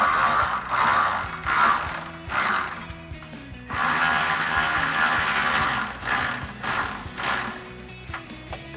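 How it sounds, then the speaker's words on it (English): A ratchet with a 10mm socket lightly snugs mount bolts for rails on a Jeep Gladiator, its close, rapid clicking coming in repeated strokes with short pauses between them. "now we can take a 10mm socket and we're going to lightly tighten these up"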